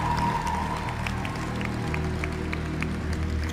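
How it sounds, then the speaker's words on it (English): A large audience applauds the archbishop at a public Catholic gathering, a steady dense wash of clapping that stays even and loud throughout, with a faint murmur of crowd underneath. "please give another huge round of applause to our great Archbishop"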